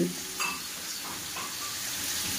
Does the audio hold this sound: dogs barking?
no